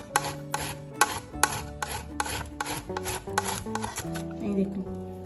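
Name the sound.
grating raw mango on a grater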